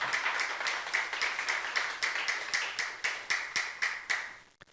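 A congregation claps in steady, rhythmic unison at a church youth service, a long run of evenly spaced claps at moderate loudness with no talk over them.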